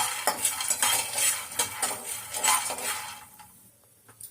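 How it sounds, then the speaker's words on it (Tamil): Peanuts being dry-roasted and stirred in a pan, a busy close scraping and rattling of nuts against metal in uneven bursts, fading out at the end. "அடுத்தது வேர்க்கடலை, அதுவும் ஒரு சின்ன டம்ளர் தான் போட்டுக்கலாம். ஏற்கனவே வறுத்த பருப்பு தான். இருந்தாலும் கொஞ்சம் நம்ம சூடு பண்ணிக்கலாம்"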